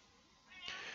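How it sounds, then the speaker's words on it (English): A house cat meows faintly in the background, one drawn-out cry rising near the end of a quiet room. "that's my cat in the background"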